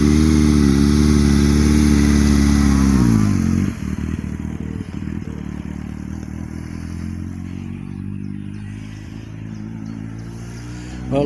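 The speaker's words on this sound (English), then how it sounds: "look at this Maverick riding my bike" A motorcycle engine runs close and loud, revving and then settling into a steady, rumbling run with some mechanical clatter.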